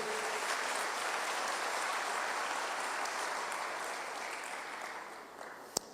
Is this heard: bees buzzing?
no